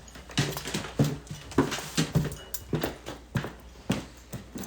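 Ruby the dog moves around on a hard floor, giving a steady patter of paws and light thumps at close range, with no voices.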